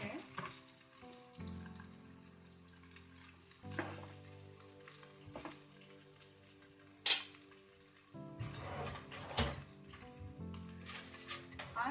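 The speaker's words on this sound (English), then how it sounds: "I'm just going to transfer the sweet potato chips into the pan." Sweet potato chips, already cooked, sizzle gently in a heated pan, with a steady frying hiss under occasional clinks and scrapes of a utensil against the pan and a few louder knocks.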